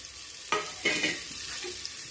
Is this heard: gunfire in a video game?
no